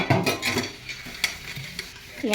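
Refined oil goes into a hot wok for frying small fish, giving a short, close burst of clatter and sizzle with a few sharp knocks over about two seconds.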